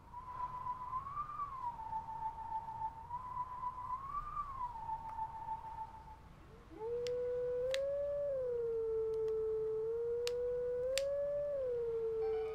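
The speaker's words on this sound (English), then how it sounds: "I howled the hum of the hero, and now I can access another move." A wolf's howl in The Legend of Zelda: Twilight Princess carries a melodic hum, two long wavering tones in one pitch, then a lower sustained phrase with faint clicks beneath, clear and alone without speech.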